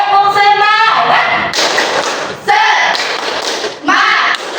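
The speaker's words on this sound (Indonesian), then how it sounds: "Tepuk semangat." A class of students claps out a rhythmic spirit clap in unison, sharp thudding clap bursts mixed with loud group chanting voices in a classroom.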